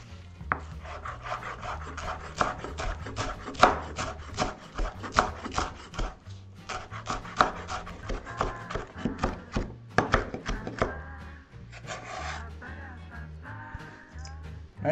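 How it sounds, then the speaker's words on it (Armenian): Fresh coriander being finely chopped with a knife on a board, a fast run of crisp, close knife strikes in a steady rhythm with brief pauses. "Թարմ համեմը կտրատելու ենք մանր"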